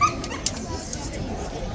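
A dog whimpers and gives short yipping barks near a scared horse outdoors, heard faintly under someone talking throughout.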